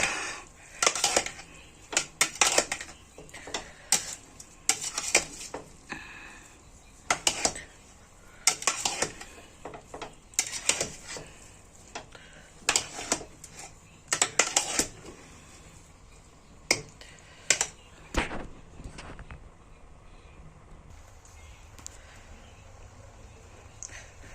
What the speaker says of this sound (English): So guys, we are going to mix it together.